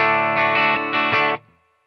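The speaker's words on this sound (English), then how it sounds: "we've just got a basic clean amp set up right now" An electric guitar plays a few chords or notes through a clean amp, ringing briefly before cutting off and fading.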